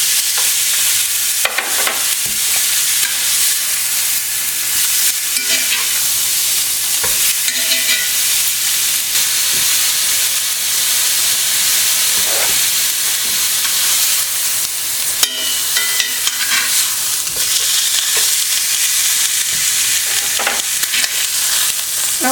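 Zucchini cakes, just flipped, fry in a pan with a loud, continuous close hiss and crackle of oil, with a few louder pops and spits along the way.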